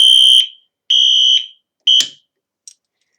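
A fire alarm system under test sounds three loud electronic tone bursts, each about half a second, with brief gaps between them, then cuts off after being silenced, leaving a faint click.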